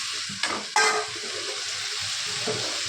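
An egg is stirred in a hot frying pan while vegetable chow mein is being made, a steady sizzle with a couple of scraping clinks near the start, no talking.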